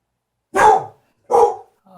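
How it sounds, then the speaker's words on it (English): Two loud, close dog barks spaced about a second apart, followed by a softer, shorter third bark, with silence in between. "pardon the barky dog"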